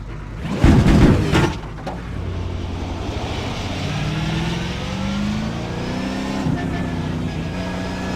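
A V8 Supercar engine in the iRacing simulator at Mount Panorama, a loud burst of revving up front, then a steady droning engine note that rises and falls with gear changes, with someone speaking over it.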